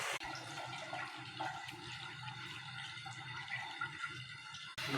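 Water poured into a cooking pot of khichdi ingredients in a home kitchen, a continuous gentle splashing and trickling stream heard close and fairly quiet, with no talk over it.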